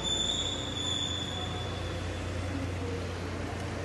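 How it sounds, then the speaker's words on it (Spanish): Inside the Tren Maya station in Mérida, Yucatán, a steady, dense rumble of rail and station noise with a faint high squealing tone, continuous and fairly loud throughout. "ya estamos aquí adentro de la estación del Tren Maya de Mérida, Yucatán."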